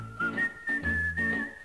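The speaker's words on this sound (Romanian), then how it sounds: "Dar fluierând pe stradă" A person whistles a melody in a Romanian song on a radio programme, the bright whistled tune holding steady over a sung and instrumental backing.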